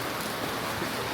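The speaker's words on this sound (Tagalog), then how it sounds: "Yung ulan mas lumakas." Heavy rain falling in Busan at night, a steady, dense hiss of drops on surfaces, close and continuous throughout the short stretch.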